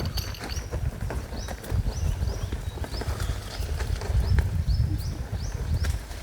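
Bullocks plod through a field while ploughing, their hooves giving a steady, irregular thudding rhythm up close, with faint bird chirps scattered overhead.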